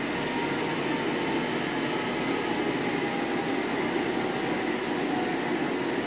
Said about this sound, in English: let's see if this is the first profiling cut. It should be taking 1 millimeter depth of cuts